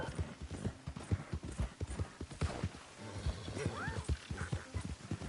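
Horse hooves clip-clop in the video game Red Dead Redemption 2, a steady, fast galloping rhythm of hoofbeats that continues throughout, with a brief whinny near the middle.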